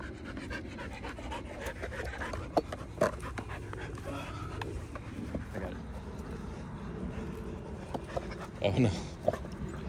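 A dog that is fetching tennis balls outdoors pants in quick, rhythmic breaths close to the microphone. Occasional thumps, wind noise and a short whimpery rustle near the end sound alongside it.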